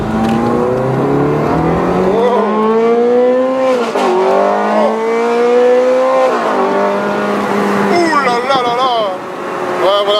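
A Ferrari F430 Scuderia 16M engine revs hard through rising harmonic sweeps, pulling up through several gears with brief dips at each shift, loud and close from inside the car, with a voice speaking over it.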